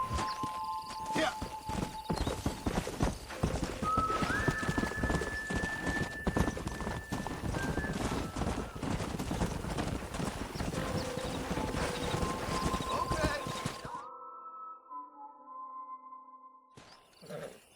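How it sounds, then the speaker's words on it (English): Horse hooves clip-clopping in Red Dead Redemption, a steady rhythmic trot of sharp hoof strikes at close range, with game sound effects layered over it before it cuts out near the end. "We got some fine horses"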